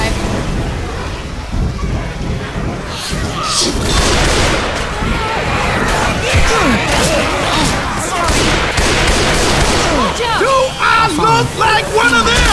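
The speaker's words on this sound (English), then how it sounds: "Grenade!" Grenade blasts and rapid gunfire in Left 4 Dead 2, a dense, continuous barrage of booms and shots with voices calling out over the top, loud and close throughout.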